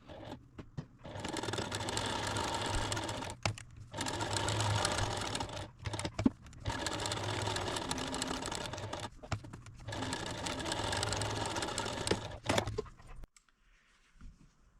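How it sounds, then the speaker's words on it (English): A sewing machine stitches a quarter-inch seam around a quilted potholder in four long, rapid runs of close mechanical whirring, separated by short pauses for turning the fabric. "I'm going to take it over to the sewing machine and sew a 1/4-inch seam all the way"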